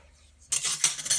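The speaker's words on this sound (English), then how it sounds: "Just mix that, give that a good mix round." Whisked egg mixture is stirred into banana cake batter in a bowl, heard as a few quick, close clinks and scrapes of a utensil against the bowl after a brief silence.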